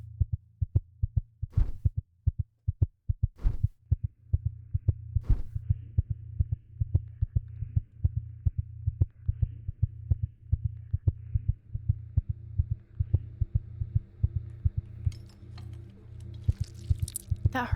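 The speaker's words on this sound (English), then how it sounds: "That heartbeat I was hearing," Steady, regular heartbeat throbs through a dark, eerie scene in the video game Everlasting: Tomorrow, loud low thumps repeating over a faint hum with sparse sharp accents, no voices.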